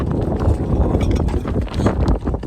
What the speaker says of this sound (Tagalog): tapos may malakas yung hangin